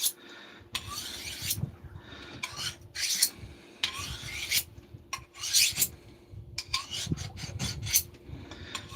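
A knife is drawn repeatedly across a sharpener in a series of quick, rasping strokes, loud and close, with short pauses between passes.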